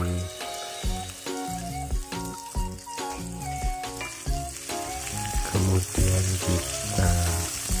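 Chili, garlic and shallots are being stir-fried in a pan for an Indonesian tempeh dish, giving a steady close sizzle with scraping stirs and clinks of a utensil throughout, while a voice briefly speaks.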